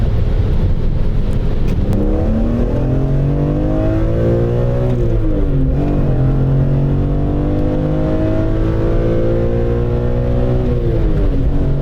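BMW M3 E46 with manual gearbox accelerating hard, engine note loud and close, rising in pitch through the revs, dipping at a gear change, then climbing again steadily.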